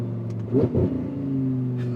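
Audi R8 V10 Spyder engine giving a short sharp rev, a brief loud snarl rising and falling before settling back to a steady idle hum, heard up close.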